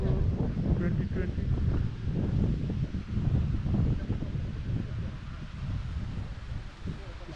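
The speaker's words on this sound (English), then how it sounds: "It's quite windy and cold weather" Cold winter evening wind gusts across the microphone in the Sultanahmet tourist area of Istanbul, a steady low rumbling buffet throughout.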